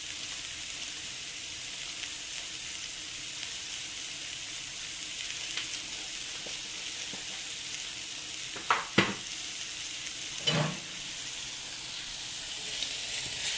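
Thin-cut pork chops frying in a pan, a steady close sizzle and hiss running throughout, with a few brief clicks and a short clatter of utensils near the end.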